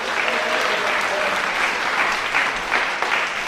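An audience at a political campaign rally applauds steadily, a dense, even patter of many hands clapping close by, with faint voices mixed into the applause.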